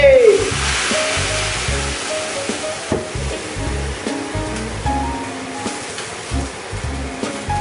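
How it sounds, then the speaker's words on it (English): A flambé flaring up in a pan, with a loud whooshing roar at the start settling into a continuous rushing sizzle dotted with crackles and knocks. "let's get that flambe"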